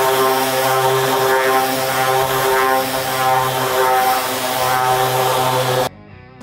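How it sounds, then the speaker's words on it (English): Sanding an epoxy coating on a table with 220 grit sandpaper: a loud, steady motorized drone with a constant pitch holds for about six seconds, then cuts off abruptly, leaving a faint tail. "So lightly sand it with 220 grit sandpaper,"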